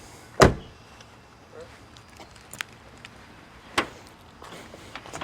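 The trunk of an E55 car pops open with one sharp latch thump, followed by a second click and a few faint knocks against a quiet background.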